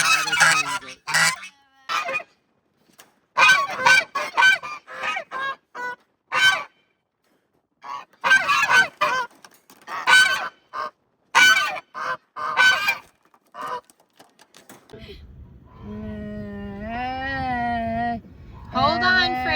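Geese honk loudly on a homestead, with repeated harsh calls in irregular bursts and a sustained stretch of nasal honking near the end, nearby and clear.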